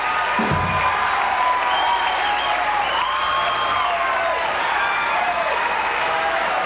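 A television studio audience applauds steadily on a 1992 late-night talk show, a dense, sustained wash of clapping with a few faint whoops mixed in, holding loud throughout.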